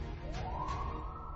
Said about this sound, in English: she hears sirens in the distance